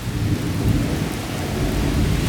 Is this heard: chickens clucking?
no